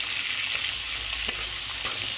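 Potatoes and eggplant sizzle steadily in hot oil in a pan, a continuous bright hiss broken by two sharp scraping stirs.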